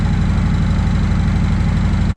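A 1982 Yamaha Virago 750 motorcycle idling close and loud, its engine pulsing in a steady low rumble that cuts off abruptly at the end.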